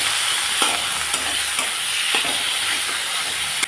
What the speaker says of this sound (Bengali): পেঁয়াজটা লাল লাল করে ভেজে নিলাম, এখন দিয়ে দিচ্ছি টমেটো কুচি